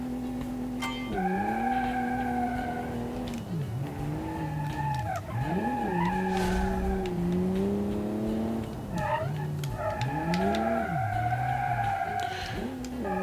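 A turbocharged race car in a driving sim screeches its tires through a skid and spin-out, with long rising and falling squeals over a steady engine drone, loud and close for the whole stretch.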